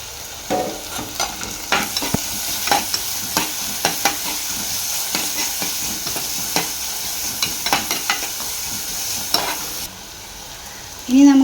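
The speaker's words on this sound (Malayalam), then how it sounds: "ചെറുള്ളി നന്നായി നമുക്ക് വഴറ്റിയെടുക്കാം. നന്നായി വഴറ്റിയെടുത്ത ശേഷം വെളുത്തുള്ളി അരിഞ്ഞതിട്ട് കൊടുക്കാം." Shallots and garlic sautéed in a pan for a sardine dish, a constant oily sizzle punctuated by regular spoon scrapes and taps against the pan, close and uninterrupted.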